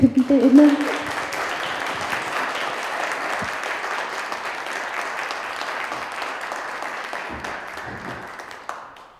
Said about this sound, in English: So please give her a big applause